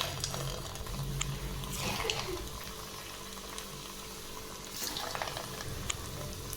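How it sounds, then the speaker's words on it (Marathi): Khoya gulab jamun balls frying in hot oil over a low flame, a soft, low bubbling sizzle with occasional faint clinks, quiet and close with no talking. "आता यामध्ये आपण गुलाबजामचे बॉल्स तळून घेऊ।"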